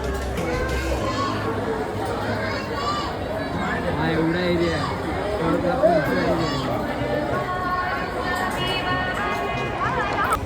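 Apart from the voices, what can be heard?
crowd of pilgrims waiting in line at a temple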